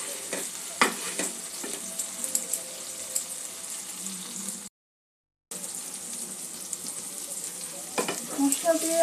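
Potatoes fry with spices in a pan for a green moong curry, giving a steady close sizzle with scattered stirring scrapes and a brief gap in the middle.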